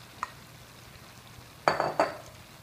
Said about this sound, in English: And you're going to stir.